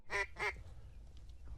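Mallard ducks, two loud nasal quacks close together from nearby, followed by quieter calls and low outdoor rumble at a duck hunt.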